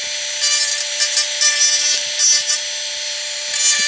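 Dremel rotary tool with a round bit grinding a denture at home, a steady high-pitched whine with scraping rasp as the bit works the surface, continuous and close.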